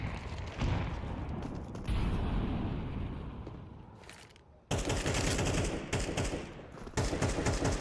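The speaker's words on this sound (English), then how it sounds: "Wall bang on Reiko" Sustained gunfire from Counter-Strike rifles wall-banging through cover, dense rapid bursts running almost continuously with a brief lull before a louder renewed volley.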